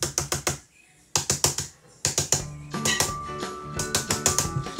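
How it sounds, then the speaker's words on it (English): Quick bursts of close computer keyboard typing, sharp clicky keystrokes in fast clusters separated by short pauses, alone with no talking. "Can you hear me typing right now?"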